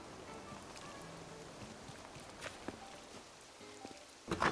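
Soft, steady rain patters throughout in Animal Crossing: New Horizons, faint and even, with a few light taps and a brief louder rustle near the end, and no talking.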